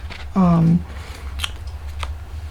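Scissors snip through paper for a gingerbread and peppermint recipe album, one short close cut, with a person talking around it.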